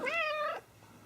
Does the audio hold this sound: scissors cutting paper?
no